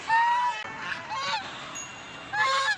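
Several loud, nasal honks from geese in quick bursts, close by, with a brief pause between the calls.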